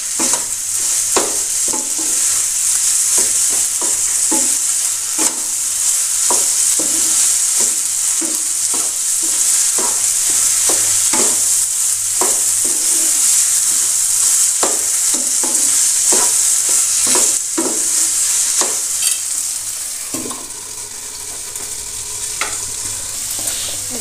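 Taro greens being stirred together with a hilsa fish head in a frying pan, giving a loud, steady sizzle throughout with repeated scraping strokes of the spatula every second or so, no voices.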